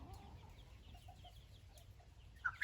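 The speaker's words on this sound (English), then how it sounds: "In case you were wondering how many chickens I have this year." Soft, scattered clucking from a few chickens, faint and close, over a low steady background hum, with a brief sharper squawk near the end.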